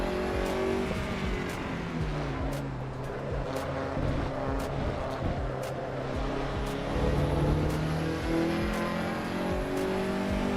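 A Lancia sports car engine in a racing video game revs and whines continuously, rising and falling in pitch with shifting gears, fairly quiet and without talk.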